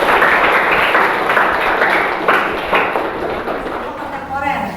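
Students in a history classroom give a short round of clapping, a dense burst of hand claps that fades over a few seconds with murmuring voices beneath.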